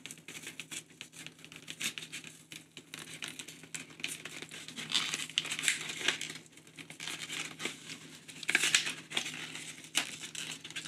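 Packaging of a Pilot Plumix fountain pen with a medium metallic nib being torn open and crinkled by hand, a steady run of close crackling and crumpling with brighter tearing bursts partway through and near the end, no voices.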